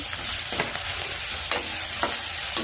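Onion, chilli, garlic and ginger-garlic paste fry in hot oil with a constant close sizzle, while a utensil stirs in regular scraping strokes roughly every half second.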